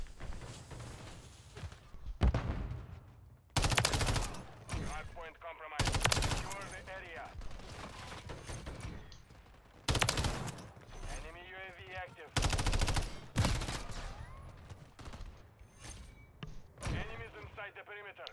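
Shotgun blasts in a fast multiplayer shooter, loud broadband bursts scattered irregularly across the stretch, mixed with other game effects and a voice talking over the action.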